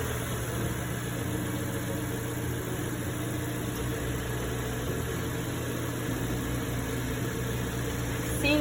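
A car engine idles steadily after an oil change, producing a constant close mechanical hum with faint vibration and no talking.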